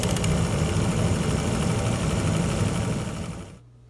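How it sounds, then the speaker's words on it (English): A furnace inducer motor with a worn bearing runs with a loud, rough, buzzing rumble and rattling vibration, steady and close, then winds down and cuts off near the end, leaving a faint low hum. "I think there's a bad bearing there in the motor"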